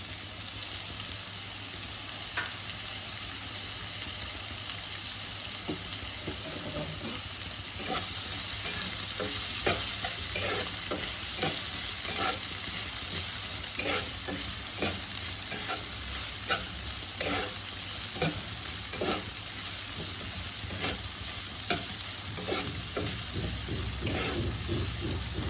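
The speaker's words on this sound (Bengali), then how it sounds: "দেখো, তেল আমার গরম হয়ে গেছে, এর মধ্যে আমি পেঁয়াজ কুচিগুলো দিয়ে দিলাম।" Chopped onions sizzle steadily in hot oil for a Mughlai paratha, a continuous close frying hiss with light stirring scrapes and clinks, no voices.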